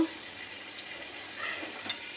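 Mixed vegetables with capsicum frying in a pan as a Maggi soup base, a steady soft sizzle with faint stirring scrapes, fairly quiet and without any voices.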